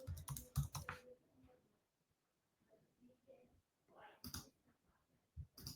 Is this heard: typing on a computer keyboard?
yes